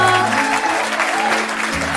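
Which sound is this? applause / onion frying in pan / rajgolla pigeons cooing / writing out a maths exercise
applause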